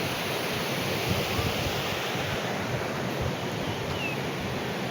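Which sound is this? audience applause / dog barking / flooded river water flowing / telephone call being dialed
flooded river water flowing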